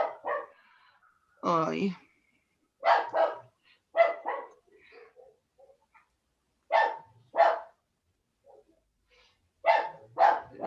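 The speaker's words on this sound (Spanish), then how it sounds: "mis perros están en el living porque hacía un poco frío, por eso ahora está ladrando aquí al lado" Dogs barking in the next room, a series of sharp, fairly close barks in bursts with silent gaps between them, plus one higher whining yelp; a person briefly exclaims.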